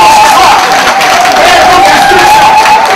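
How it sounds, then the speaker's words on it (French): A crowd of party activists applauds for the minister at a political meeting. The clapping and cheering are loud, dense and continuous throughout, with a steady sustained tone ringing above the noise and some voices mixed in. "Est-ce qu'on peut donner un applaudissement très très fort au ministre ?"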